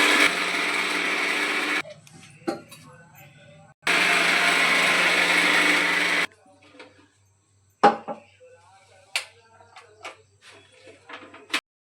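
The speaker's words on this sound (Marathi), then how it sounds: "आता मी भोपळ्याच्या भाजीसाठी मसाला वाटते" A mixer grinder grinds masala for a pumpkin curry in two loud, steady bursts, each a couple of seconds long, followed by quieter kitchen clatter and clinks.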